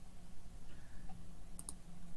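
Faint, sparse mouse clicks sound while someone works in a web app for setting up a social media campaign, with a low steady hum underneath.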